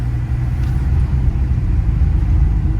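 A car rolls along a freshly resurfaced road near the old town centre of Chernivtsi, a steady close engine and tyre rumble that runs unbroken with no voices.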